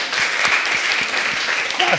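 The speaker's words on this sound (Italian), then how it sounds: "a voi, un applauso" Audience applause for Francesca at a Top Club event, a steady close wash of clapping hands that runs throughout, with a voice speaking over it near the end.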